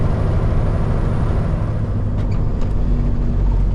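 A heavyweight truck driving over hilly roads, a loud steady rumbling engine and road roar heard from inside the cab, continuous with no talking.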